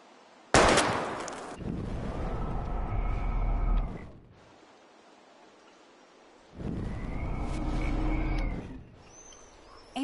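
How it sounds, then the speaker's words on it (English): Gunfire in the video game Life is Strange as bottles are shot at: a sharp shot opens, followed by two long, loud sustained bursts of noise separated by a quiet gap. "We're gonna shoot all these bottles without wasting a single bullet."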